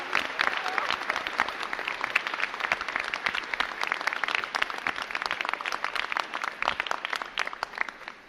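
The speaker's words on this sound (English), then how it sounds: "get on your feet and give them a round of applause for what they have done" Keynote audience at a CUNY event giving a round of applause, dense sustained clapping from many hands at a steady level for the whole stretch, without speech over it.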